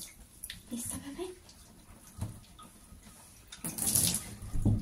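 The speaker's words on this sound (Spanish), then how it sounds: "¿Te gusta el primer baño, Luna?" Running water during a pet cat's first bath, a splashing, gurgling stream from a tap rising and falling over a few seconds, growing louder toward the end, with a voice talking softly in the background.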